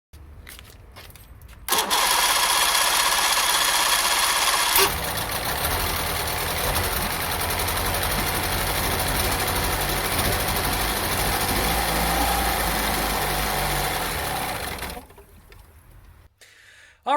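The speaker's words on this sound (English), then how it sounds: "Alright, so that engine is finally running." Speedboat engine being refurbished, starting after a brief crank and then running at a steady idle, loud and close with a constant rumble for over ten seconds before cutting off.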